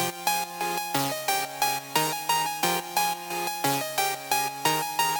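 Bright, harsh synth lead playing a melody, chopped into rapid rhythmic pulses by a stuttering gate effect, loud and alone.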